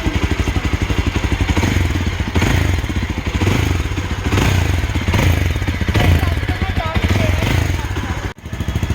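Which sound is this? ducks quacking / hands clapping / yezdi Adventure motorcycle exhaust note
yezdi Adventure motorcycle exhaust note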